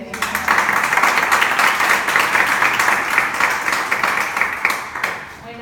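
A seated audience claps after a speaker is introduced at a talk on mindfulness, a lively burst of many hands that holds steady before tapering off at the end.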